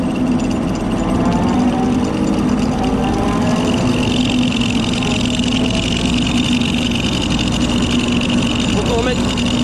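An engine with a worn bearing in the belt tensioner pulley runs steadily and loud at close range, a continuous rough drone with a faint rising whine, while people talk over it.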